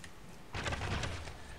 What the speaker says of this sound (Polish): Deszcz pada!